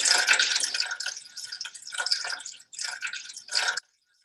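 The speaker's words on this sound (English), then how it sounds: "We carefully fill the tub with room temperature water." Room-temperature water poured into a tub in uneven splashing, trickling bursts with brief gaps, close by and moderately loud before stopping, no talking.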